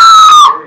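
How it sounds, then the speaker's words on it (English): A single short, loud, high-pitched scream from one person, sharp at the start and cutting off abruptly, recorded close up. "Actually, give a scream."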